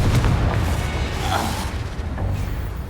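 In the game Hogwarts Legacy, a Confringo spell bursts with a deep, rolling boom, loud and near, fading over about three seconds.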